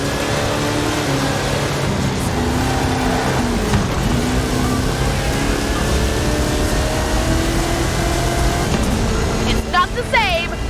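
Game monster truck with a 540 cubic inch Chevrolet engine on 66 inch Terra tyres in Forza Horizon 5, a loud steady engine roar with shifting pitch throughout, a voice talking over it.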